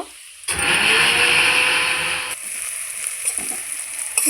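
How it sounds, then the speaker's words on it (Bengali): Onions frying in a pan for a duck egg curry, a loud steady sizzle that starts abruptly and later drops to a quieter, crackling hiss with occasional stirring noises. "পেঁয়াজটা আমি লাল লাল করে ভেজে নেব"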